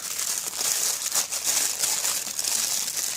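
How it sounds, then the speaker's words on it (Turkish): Plastic courier bag crinkling loudly and steadily up close as it is opened while unboxing a mini camera, with no talking. "kargo şirketinin poşeti vardı. Onu açtık."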